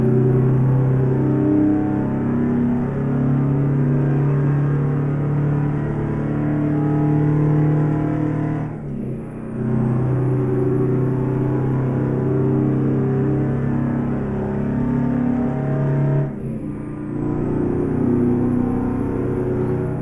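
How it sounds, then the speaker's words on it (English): An International 9800 CabOver truck engine in American Truck Simulator drones loud and steady, dropping briefly twice during gear changes before pulling again, with no voices. "This engine's pretty loud too."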